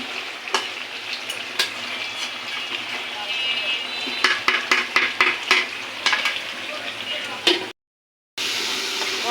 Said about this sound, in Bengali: মশলা কষানো প্রায় শেষের দিকে, তেলটা উপরে ভেসে উঠেছে।